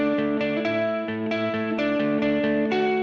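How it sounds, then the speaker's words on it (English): Synthesized musical notes play in a steady rhythmic pattern with stereo reverb from a send effects channel, leaving each tone washed in a lingering tail; no voices. "you get that stereo sound of the reverb"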